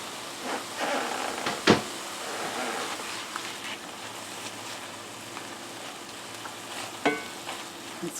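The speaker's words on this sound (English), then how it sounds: "I'm going to toss in the stir fry meat." Stir-fry meat hits a hot cast iron skillet with portabella mushrooms, giving a steady close sizzle throughout with a couple of sharp clanks and scrapes from a utensil.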